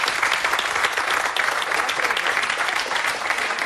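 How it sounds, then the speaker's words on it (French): A French television studio audience bursts into loud, dense applause that holds steady and continuous from start to finish, with no voices rising above the clapping. "vous applaudissez maintenant"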